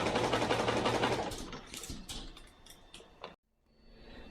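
A sewing machine runs fabric through while stitching a gusset for a cow head, giving a dense, close rattling whir that slows and fades, then stops abruptly near the end.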